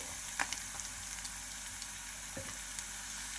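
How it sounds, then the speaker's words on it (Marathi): Dry ground spices frying in oil for a potato and eggplant curry, a soft continuous sizzle and crackle close up with a few light stirring knocks, no talking. "आता हे छानपैकी फ्राय झालेले आहे"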